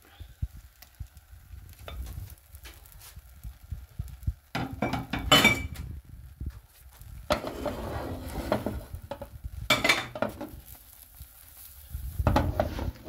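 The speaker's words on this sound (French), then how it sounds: "on va la mettre dans une poêle très chaude" Lemonade cake batter goes into a very hot frying pan, giving clattering pan knocks and scraping clinks with bursts of sizzle, loudest around the middle and again near the end, with no talk.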